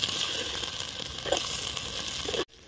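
Eggplant frying in a pan with rock salt, a steady close sizzle and hiss that runs evenly for over two seconds before cutting off abruptly.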